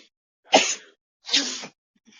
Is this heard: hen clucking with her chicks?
no